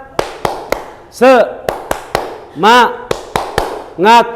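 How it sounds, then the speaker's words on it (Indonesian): Rhythmic spirit clapping led by a teacher, with sharp single claps in a quick pattern broken by chanted shouts, the pattern repeating three times up close, voice and claps close to the mic. "saya akan tampilkan bagaimana tepuk agar supaya kita semangat"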